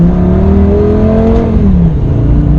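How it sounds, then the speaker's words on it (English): A Lamborghini engine revs up steadily, its whining pitch climbing then dropping as the rev falls off, loud and close with no talk over it. "And then I bought a Lamborghini."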